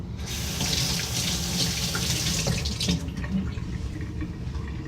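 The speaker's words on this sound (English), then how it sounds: "I'm gonna rinse off my hands." A kitchen tap runs steadily into a sink while hands are rinsed under it, giving a loud, close, continuous splashing that eases off toward the end.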